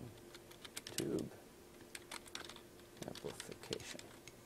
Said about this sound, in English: as I was typing